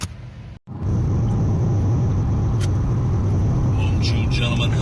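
A 2018 Honda Civic hatchback with a stick shift is driving, heard from inside as a steady, loud low road rumble after a brief drop-out, with a few light clicks and rattles.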